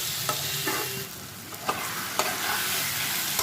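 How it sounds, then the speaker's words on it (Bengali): Pumpkin stir-fried in oil with chilli in a pan, a soft steady sizzle broken by several scraping strokes of a spatula against the pan, with no talking. "কুমড়োটাকে দিয়েও ভালো করে একটু কষিয়ে নেব"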